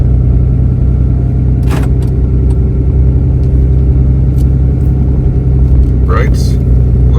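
A Ram 2500 pickup truck drives at night, its engine and road noise forming a steady, loud low rumble inside the cab, broken by a few brief clicks.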